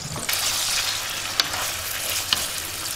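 Chopped onion and chicken liver sizzle in a hot frying pan on a gas stove, a steady loud fry with a few sharp clicks of a utensil stirring against the pan.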